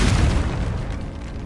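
In Hogwarts Legacy, a Confringo blasting spell detonates with a heavy boom and a dense low rumble that starts strong and slowly fades through a second and a half, with no talking.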